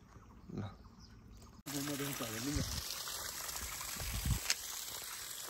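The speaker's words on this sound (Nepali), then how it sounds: "यो चाहिँ अर्ग्यानिक मूलको पानी हो।" Spring water flows continuously and steadily nearby. A brief tonal voice-like sound rises over the water early on.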